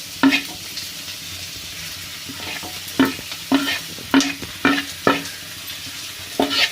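Egg puff masala filling stirred in a pan, a spoon scraping and tapping in repeated strokes over a soft sizzle of frying, close and moderately loud with no talking.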